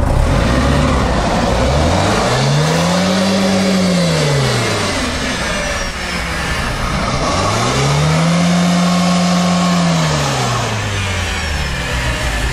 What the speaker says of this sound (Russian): Чуть-чуть больше оборотов, чтобы электронный помощник сработал.